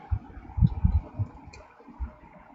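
Computer mouse clicks sound as a few soft, close, irregular taps with a small cluster early and a single click later, over a faint quiet room hum.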